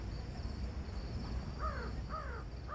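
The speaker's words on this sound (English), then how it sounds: "Hear that, friends? It's the crows. A whole matter of them, crying for our spirits." Crows caw in the video game Thief, three harsh calls in a row, over a steady low ambient background with no talk.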